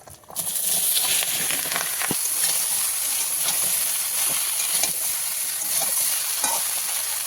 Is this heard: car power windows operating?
no